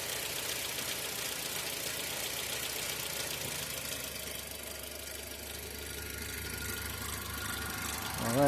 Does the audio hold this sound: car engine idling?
yes